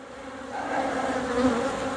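Honeybees drone steadily inside a horizontal hive during late-season winterization, a close continuous buzz that swells slightly in loudness, with no voices.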